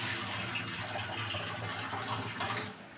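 A peeled bottle gourd is rinsed under running tap water, a soft, steady stream splashing quietly for a few seconds before easing off, with no voices.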